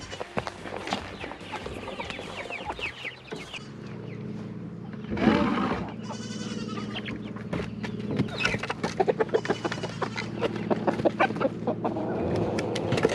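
Dense clucking and squawking from a group of chickens in a coop, continuous and busy throughout, with scattered louder calls and shuffling noise mixed in.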